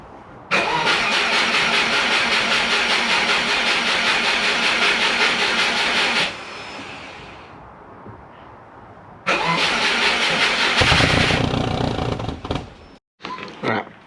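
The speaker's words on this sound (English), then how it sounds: "let's get it started up. Make sure we're not leaking any oil, and we'll get to hear the new exhaust." A Subaru fitted with a new custom exhaust starts up and runs loud, settles to a quieter idle, then roars again before cutting off, all close up with no talk.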